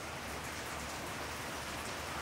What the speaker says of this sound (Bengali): আজকে ফের জোরে জোরে বৃষ্টি হচ্ছে